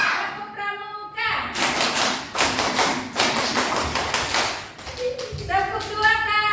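Schoolchildren in a classroom clap out a rhythmic scout clap, with bursts of loud group claps mixed with their voices chanting and a teacher speaking.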